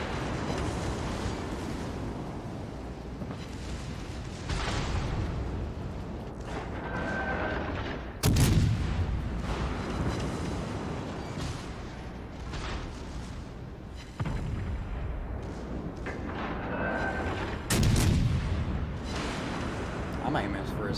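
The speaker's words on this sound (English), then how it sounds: "this fucking battleship over here is shooting HE" A battleship firing HE shells in a naval combat game, with heavy booming salvos landing at intervals over a continuous rumbling battle din, while someone talks over much of it.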